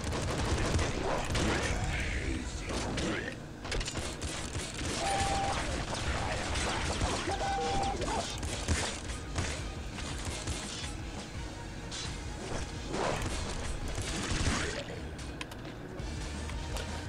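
A disc gun fires again and again in the Nuclear Throne video game, a dense barrage of rapid shots and impacts layered over game music and effects, continuous and loud throughout.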